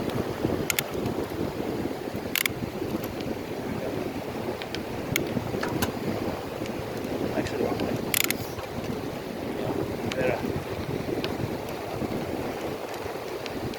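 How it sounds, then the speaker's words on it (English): Steady wind rushes across the microphone while bicycling on Fort Myers Beach, Florida, in a light headwind, a continuous broadband roar with a few brief knocks and no talking. "now I'm hitting about a 2-mile-per-hour headwind, so it's cutting down forward progress pretty good"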